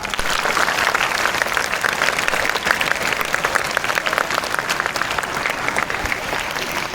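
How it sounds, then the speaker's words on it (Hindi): Loud, sustained applause for schoolchildren at an Independence Day celebration in a school, steady dense clapping from a large crowd running throughout. "तो अगेन अब तक जितने बच्चों ने बोला उन सब के लिए जोरदार ताली"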